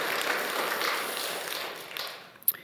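A church congregation at a Sunday service in New York applauds the choir, a dense, steady wash of clapping that thins out near the end with a couple of sharp final claps.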